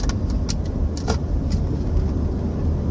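A large passenger van with room for about eight people is driven to work, its engine and road noise a steady loud rumble from inside the cabin, with a few faint clicks and rattles.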